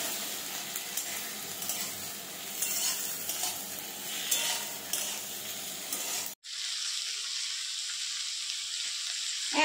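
Chopped vegetables for chilli gobi being stir-fried in a pan, a busy sizzle with stirring scrapes for several seconds, then a sudden cut to a quieter, thinner hiss.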